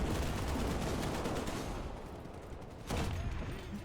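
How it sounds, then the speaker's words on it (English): Dense automatic gunfire in a video game crackles in rapid, overlapping bursts, loud and continuous, briefly easing before another sharp volley. "I'm getting shot at by 2 people."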